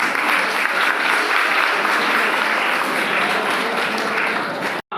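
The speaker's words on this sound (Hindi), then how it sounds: "इनके लिए बाकी सब तालियां बजाइए" Steady, loud applause from an audience of students at a Guru Purnima gathering at a school in Lonavala, sustained clapping filling the whole stretch before cutting off abruptly at the end.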